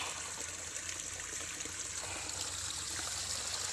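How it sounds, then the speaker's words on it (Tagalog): Irrigation water flows into a rice field, a steady, close trickling and gushing stream that runs continuously without pause or speech. "bin inopen talaga oh ni Uncle Eliasar ang tubig"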